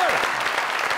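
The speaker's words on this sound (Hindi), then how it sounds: "आप सबकी जोरदार तालियों में वंडरफुल एक्टर" Studio audience applause for an actor on a comedy show, a dense burst of clapping over about a second, loud and steady.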